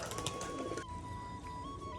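A pair of black pigeons gives a brief, faint low cooing under a steady electronic whine and quiet room noise.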